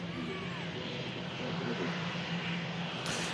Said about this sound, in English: EasyJet arriving in from Bordeaux.